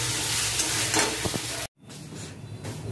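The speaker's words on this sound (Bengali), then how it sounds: "মশলা কষিয়ে নিচ্ছি, ভালো করে মশলাটাকে কষিয়ে নিই।" Ghugni spice masala fries in a pan with a steady sizzle and scraping stirs, then the sound cuts out abruptly and returns as a quieter, thinner hiss.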